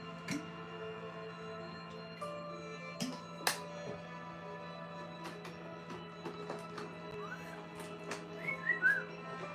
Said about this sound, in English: I can whistle normally